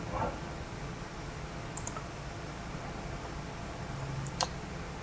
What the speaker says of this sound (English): and then click upload